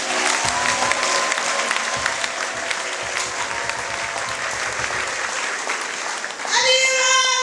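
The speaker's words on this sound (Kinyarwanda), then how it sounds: "Mwakomere yera amashyi." A church congregation breaks into loud, sustained applause, a dense steady roar of clapping that carries through to the end, where musical tones rise over it.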